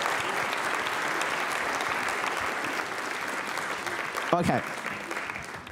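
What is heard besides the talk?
applause at congress session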